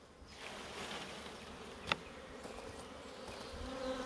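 Honey bees buzz in a dense, steady drone as a hive frame of gentle nurse bees is shaken, with a brief sharp knock near the middle and no voices.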